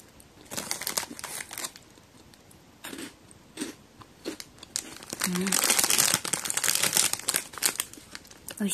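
A crinkly plastic sticker packet from a melon-flavoured Chocobi snack is torn open up close, giving sustained crackling and rustling that grows louder toward the end, with brief speech at the start.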